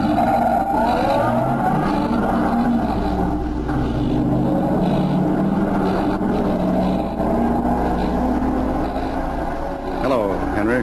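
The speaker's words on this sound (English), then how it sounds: "The other car is pulling away." A car pulls away and drives on, its engine droning loudly and continuously throughout, with a rising rev sweep near the end in a dramatized radio spy scene.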